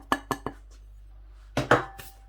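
Utensils knock against a bowl while flour is mixed into pizza dough: three sharp clinks in quick succession, a pause, then a few more clatters and scrapes, close by and fairly clear.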